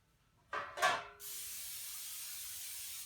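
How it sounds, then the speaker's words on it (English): A steady hiss of cooking spray onto baking pans lasts a couple of seconds, preceded by two short clattering handling sounds, close and fairly loud. "I'm going to spray my pans"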